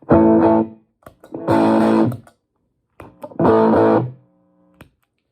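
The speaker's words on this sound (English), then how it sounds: "It's almost like a fuzz pedal." Fuzzy, overdriven electric guitar through a 1995 B.K. Butler Tube Driver or Hermida Audio Dover Drive pedal plays two short bursts of chords, each cut off sharply, with small picked scratches and silence in between.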